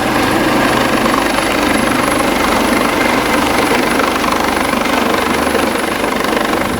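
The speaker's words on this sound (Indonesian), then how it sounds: "Basarnas mengerahkan helikopter untuk evakuasi korban banjir bandang di Kabupaten Agam" A Basarnas rescue helicopter evacuating flash-flood victims in Agam, West Sumatra, produces a loud, steady, close rotor throb and engine drone that runs unbroken throughout, with no voices.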